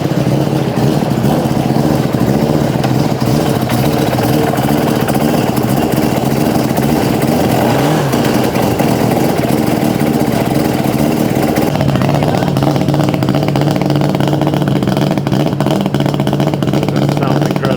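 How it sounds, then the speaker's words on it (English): A four-rotor Mazda RX7 engine warms up in Indonesia, a loud, close, throbbing rotary idle with a busy buzzing rasp, the tone shifting slightly partway through as it keeps running steadily. "So we're gonna gently warm up the engine first before we take it out."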